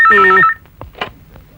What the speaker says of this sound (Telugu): మైసూర్ జక్షన్ గారు హైదరాబాద్ వచ్చిన వీడు బాకీ గురించి ఫోన్ చేస్తున్నాడే